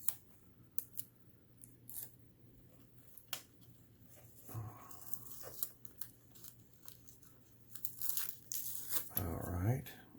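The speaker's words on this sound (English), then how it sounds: "let me try to get this tape off so I can get to the zipper." Tape peeled off the zipper of a purse, sharp tearing and crinkling rips scattered among handling noises, close and quiet, with a brief louder strip near the end.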